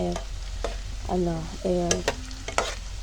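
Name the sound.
stirring camote (sweet potato) fries frying in oil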